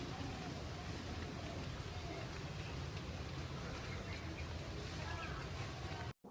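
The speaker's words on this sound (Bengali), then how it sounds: "দেখো বৃষ্টি হচ্ছে, দেখো।" Light rain falling outdoors makes a constant soft hiss of drops on surfaces, even and unbroken, faint overall, ending in a brief cutoff.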